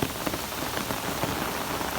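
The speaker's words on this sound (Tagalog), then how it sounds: "Lakas ng ulan." Heavy rain falls in a dense, unbroken roar of pattering drops, loud and steady throughout with no voices.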